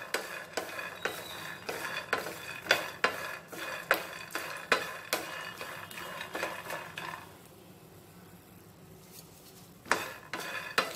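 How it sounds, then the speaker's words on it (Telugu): Peanuts stirred as they fry in a pan for chutney, with a steady run of rhythmic scraping clinks of a utensil against the pan, a quieter pause midway, then a few more strokes, close and without speech. "పల్లీలని కరెక్ట్గా మనము ఫ్రై చేసుకోవాలి"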